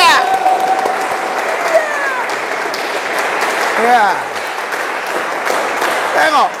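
A congregation at a worship service held in an army infantry brigade barracks cheers and claps for God: dense, sustained applause with shouts and whistles running the whole stretch, with a preacher's voice briefly heard over it.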